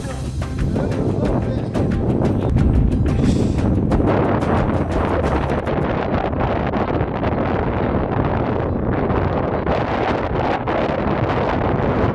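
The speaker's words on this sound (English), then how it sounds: "The wind proved a bit of a challenge." Strong wind blowing across open Saudi Arabian desert, a loud, steady roaring rush with heavy buffeting on the microphone throughout, no voices.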